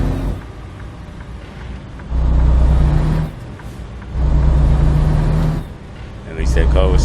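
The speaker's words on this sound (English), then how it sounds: "At least that car was smart and knew where to stop at." Cars and trucks roll past on a road in American Truck Simulator, with engine rumble swelling and fading in three loud waves and a steady drone between them.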